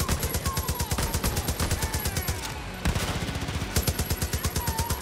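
Rapid automatic gunfire rattles in Far Cry New Dawn, with bursts of evenly spaced shots, loud and close. A brief pause comes just before the firing resumes at the same steady rhythm.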